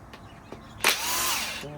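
A power tool zips out 10mm bolts on a Honda B20B engine in a '92 Civic: faint clicks, then a sudden loud burst of whirring that holds steadily for nearly a second before stopping.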